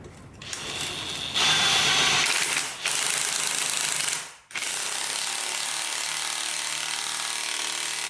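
Ratchet wrench tightening the factory transmission mount on a Jeep Cherokee XJ, loud, close, continuous rapid clicking that pauses briefly twice, with no voices.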